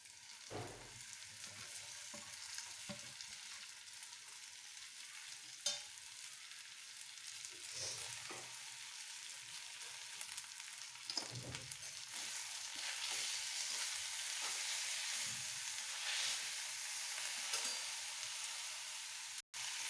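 Safflower greens (kardi bhaji) cooking in a pan with coarse crushed groundnut, a steady soft sizzle with occasional stirring scrapes, fairly quiet and without talk.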